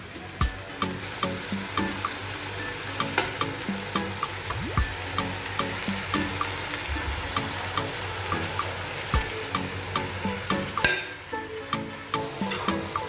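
Carrots, peas, parsley and bell pepper go into a cooking pot of chicken and rice, a continuous loud sizzle with rhythmic stirring scrapes and splashy, watery texture, no voices.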